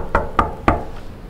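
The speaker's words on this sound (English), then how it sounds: "I knocked on the door, but no one answered." Three sharp knocks land on a door in a video game, evenly spaced and loud, with a faint fourth tap trailing off after them and no voices.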